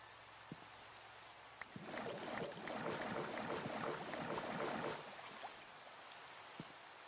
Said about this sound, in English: Oh wait, it's raining.